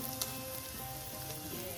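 Garlic with salt sizzles softly and evenly in a Le Creuset pot, a brief, close hiss with a faint stir near the start.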